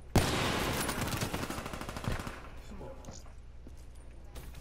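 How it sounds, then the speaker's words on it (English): Video game gunfire, a rapid burst of shots that starts sharply and loudly, rattles on for about two seconds, then fades into quieter background game sounds. "What is that shot?"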